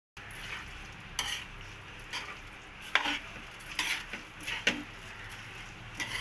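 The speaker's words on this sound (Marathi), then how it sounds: "चांगलं आपण हे परतून घेऊया." Prawn pulao rice is sautéed in a pan, with a soft frying sizzle broken by several scraping stirs and clinks of a spoon against the pan, close and fairly quiet, with no talking.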